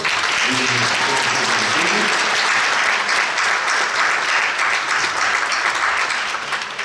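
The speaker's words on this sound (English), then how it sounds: "So give yourselves a round of applause" Loud, dense applause from an audience at a live school performing-arts event, steady throughout before tapering slightly at the end.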